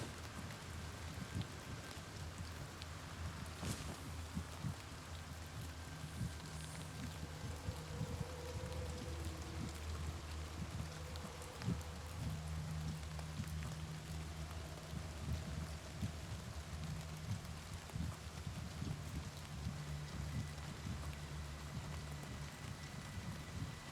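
Faint, steady rain falls in the video game Oblivion Remastered, a soft continuous patter with no other distinct sounds.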